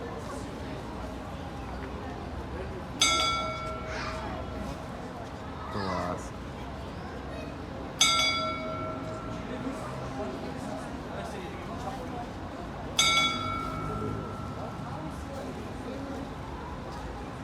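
Three loud metallic bell strikes from a mechanical clock tower in Tbilisi, Georgia ring out about every five seconds, each with a bright lingering tone, over steady crowd chatter and murmuring voices.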